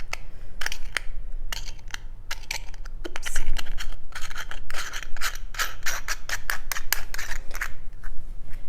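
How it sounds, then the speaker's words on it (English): A Sprague-style stethoscope diaphragm is screwed back onto its base up close, giving a steady run of small scratchy clicks, rubbing and light plastic ticking with no voices. "pop that back in like so, and screw it back onto the base."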